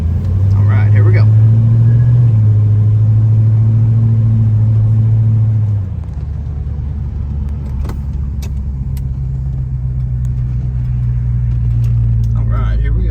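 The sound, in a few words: 1968 Pontiac GTO Ram Air engine on a test drive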